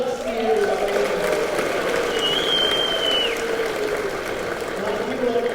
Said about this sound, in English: Give me a big round of applause for my trusty horse, Dusty, everybody.